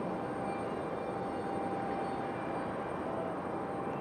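A Delta Airbus A319 jet departing Raleigh-Durham airport, a steady broad engine rumble and roar at moderate distance, even in loudness throughout with no voices.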